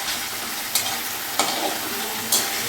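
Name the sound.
stirring and sautéing fish with coriander leaves in a pan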